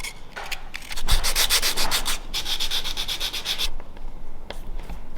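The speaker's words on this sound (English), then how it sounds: "I'm just going to sand them down a little bit" Leftover WoodUbend moulding offcuts being sanded by hand, with quick rhythmic back-and-forth rasping strokes in two close bursts, then a few lighter scrapes.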